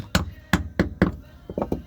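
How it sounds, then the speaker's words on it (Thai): Sharp wooden knocks from a hammer or mallet driving caulking into the seams at the stern of a wooden boat, about seven blows in an uneven rhythm, close by and fairly loud. "ตอกไปปิดชานไปเหมือนเดิมนะครับผม"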